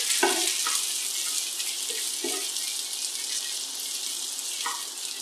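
Capsicum tipped into a pan of frying onions for kadai paneer and stirred through, a steady hiss of sizzling oil with a few scraping clinks of the spoon against the pan.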